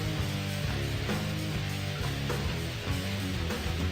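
Final boss theme music from a Bloons video game, dense and loud with a driving, layered bass line and steady rhythmic pulses throughout.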